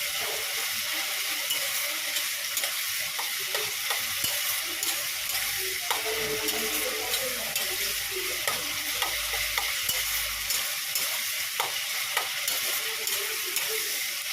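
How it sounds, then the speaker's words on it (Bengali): A spice paste being stir-fried in a pan, a close, steady sizzle with repeated scraping stirs and occasional sharp clicks and knocks running throughout. "মশলাটা দেখো খুব ভালো করে কষাচ্ছি"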